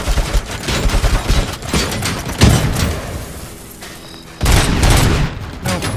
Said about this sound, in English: The explosives take a long time to explode.